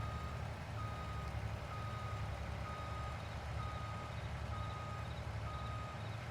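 Repeated reversing beeps from a truck backing trailers into place in Farming Simulator 22 on the Alma, Missouri farm, a steady evenly spaced electronic beep over a constant low engine drone.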